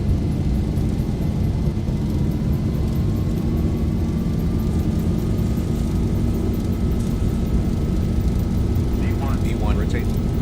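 Airliner engines spooling on the runway in the X-Plane 11 flight simulator, a steady loud rumbling jet roar with a rising whine, while a voice gives radio calls over it.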